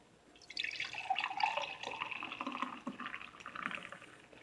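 Chaga tea pours steadily into a mug, a close, continuous liquid trickle and splash lasting several seconds with no talking.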